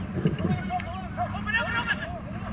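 Horse hooves thudding during a polo match, quick clip-clop beats under a commentator talking steadily.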